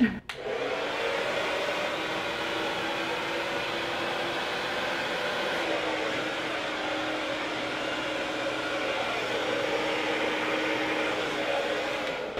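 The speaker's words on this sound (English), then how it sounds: "blow dryers on high heat." A blow dryer running on high heat gives a constant, loud, close whooshing roar from start to finish, with no voices over it.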